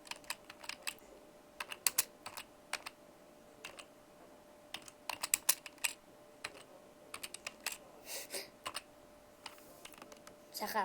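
Scattered bursts of computer keyboard typing, with quick clicking keystrokes in irregular clusters and pauses, heard close up over a quiet room background.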